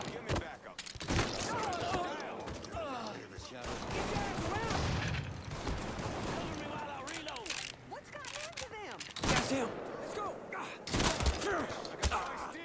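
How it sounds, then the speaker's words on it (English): Shotgun blasts in the Mafia III video game fire in a slow, irregular series of sharp, loud reports, spaced a second or more apart, mixed with game effects and someone talking over the action. "Man, the rate of fire on this shotgun is like really bad"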